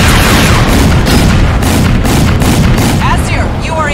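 Missile explosion in Crysis 2, a loud, sustained roaring blast with crackling debris rumbling throughout, very close and overwhelming.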